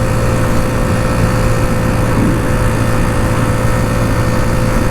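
A 2009 Genuine Buddy 125 scooter engine runs at full throttle, a loud, steady, buzzing drone that stays close and constant throughout, with strong wind rush and no speech.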